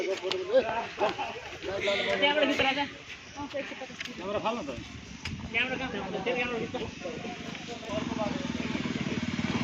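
A motorcycle engine drones under continuous chatter of several people, growing slightly louder toward the end as it approaches.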